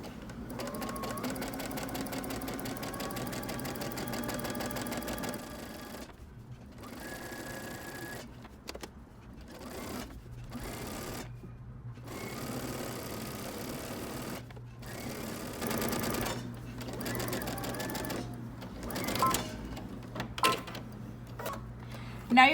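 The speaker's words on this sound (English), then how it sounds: "I'm going to make sure that the edge of my fabric stays along that 3/4 of an inch marking" Home sewing machine stitching a casing into fabric for shorts or pants, its rapid mechanical whir running in bursts separated by brief pauses, close and steady throughout.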